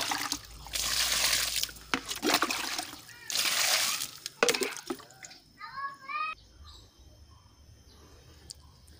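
Water diluted with JMS fertilizer splashes and sloshes onto potted rose apple plants in bursts, with a voice and other speech mixed in before the pouring stops and quieter sounds follow.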